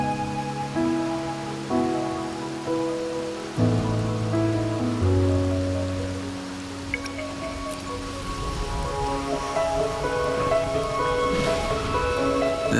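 Rain patters steadily in the game Wuthering Waves, a soft continuous hiss of drops beneath sustained melodic music tones, with no voices.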